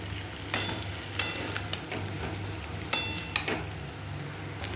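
Chicken coated in red chili powder sizzles steadily in a pan while a spatula stirs it, scraping with a few sharp clinks against the metal at close range.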